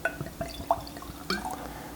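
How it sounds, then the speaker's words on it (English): Whiskey, a Speyburn Bradan Orach, poured into a glass: faint liquid trickling and a few light drips and glassy clinks, quiet and close with no talking. "let's go ahead and pour ourselves some of this guy"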